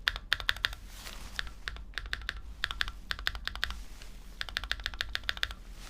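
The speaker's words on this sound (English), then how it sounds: "Oh, okay, I get a lot of ping from spacebar." Fast typing on a Thera75 V2 mechanical keyboard whose spacebar has a ping: bursts of crisp, close clacks in quick runs, separated by brief pauses.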